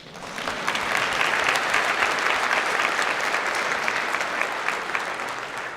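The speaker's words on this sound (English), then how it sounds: "That deserves a round of applause." A crowd claps steadily, building quickly and holding a sustained, lively round of applause for several seconds.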